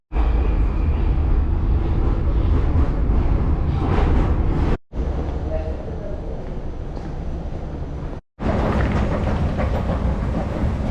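A Prague metro train rumbles steadily with a loud, continuous low roar, briefly cut twice, with no talking.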